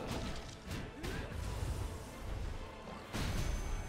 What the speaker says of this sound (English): That was a big explosion that caught my booty unawares.